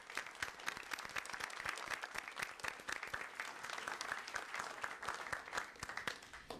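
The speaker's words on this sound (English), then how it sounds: "I would like to give them a round of applause for what they do." Audience applause at a NASA briefing on the New Horizons Pluto mission, sustained crisp clapping from a room of people, fairly distant and quiet, running throughout.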